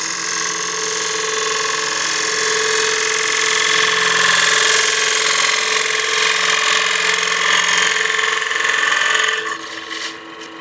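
A wood lathe spins a wet bowl blank while a gouge cuts the inside, a steady loud whirring hum with a sustained scraping cut that eases off near the end.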